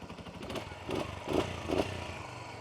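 A 2009 Suzuki Grasstracker Big Boy 250 with fuel injection idles and is blipped nearby, giving a steady low engine tone with three brief rises in revs.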